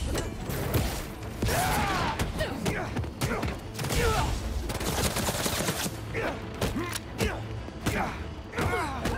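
Gunfire in Marvel's Spider-Man 2 on PS5: dense, continuous shooting with thuds and clattering mechanical noises beneath a busy game soundtrack, loud and sustained, with a voice speaking briefly over it.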